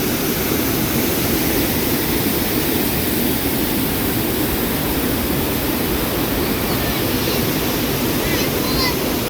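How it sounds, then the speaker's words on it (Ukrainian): Loud, steady roar of the rushing, turbulent Prut mountain river near Yaremche, Ukraine, fills the whole clip, a dense wash close by with no pauses. "Сьогодні капець бурклива річка."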